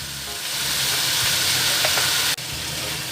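Chicken sizzles steadily in a hot pan, with scraping stirring sounds and a brief clunk near the end.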